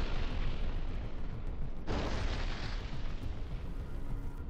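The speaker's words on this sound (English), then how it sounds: "Destruction of a temporary deployment point belonging to the Ukrainian armed forces using a FAB-500 air bomb equipped with a guided missile system" FAB-500 guided air bomb striking a temporary military deployment point, heard as a dense, continuous roar of blast and rumble with a sharp surge in intensity partway through, loud and distant-sounding.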